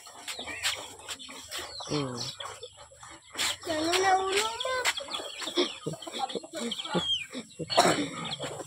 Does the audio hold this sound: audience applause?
no